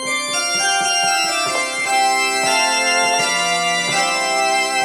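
A Roland FR-8x digital accordion plays a newly installed orchestra sound, 11B: dense, sustained chords with rich layered tones shift through several changes, loud and steady throughout, with no talking.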